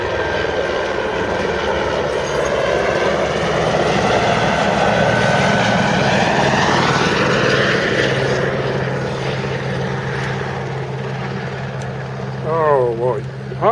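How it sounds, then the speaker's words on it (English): Helicopter flying practice landings and takeoffs near a small airport, a steady loud rotor and engine drone with shifting pitch throughout, with faint voices nearby. "Here comes the helicopter again. It's a their practice landings and takeoffs."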